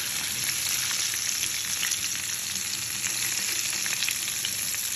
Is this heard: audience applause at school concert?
no